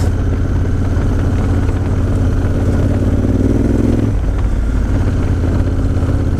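A Honda Africa Twin motorcycle crawls off-road in second gear, its engine a steady low rumble with slight clatter that shifts in tone partway through, close and loud, with no talking.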